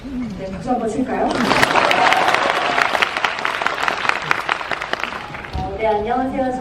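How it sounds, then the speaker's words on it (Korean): An audience at a live talk event for the film Parasite breaks into applause, a loud sustained round of clapping for about four seconds, with a voice before and after it. "박수 한번 칠까요?"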